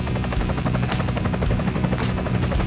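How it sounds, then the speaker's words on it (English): Small drone flying over an ice fishing spot, giving a loud, steady, whirring propeller buzz with a rapid rhythmic flutter that holds close and constant throughout. "They're ice fishing with a drone."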